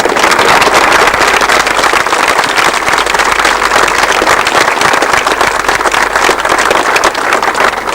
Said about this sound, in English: I'd like everyone to acknowledge their efforts with a big round of applause